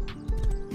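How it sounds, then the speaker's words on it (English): Hooves of a horse in a multiplayer shooter game clop quickly and close by in a short burst of several muffled thuds, with faint game background underneath. "Horse."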